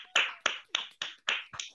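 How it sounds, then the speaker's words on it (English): Clapping in applause for front-line workers during the COVID-19 pandemic: six firm, evenly spaced claps, close and distinct, each a crisp smack with a short decay and gaps between them. "join in as we clap and applause for those people who are working on the front line"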